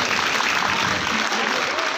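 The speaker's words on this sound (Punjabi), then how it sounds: "ਆਪਕੀ ਬਖੂਰ ਤਾਲੀਆਂ ਹੋਣੀ ਚਾਹੀਏ ਬੱਚੋ ਕੀ ਹੌਸਲਾ ਅਫਜ਼ਾਈ ਹੋਗੀ" Steady, dense applause from a school audience cheering on students at a comedy competition, continuous clapping at moderate volume for about two seconds.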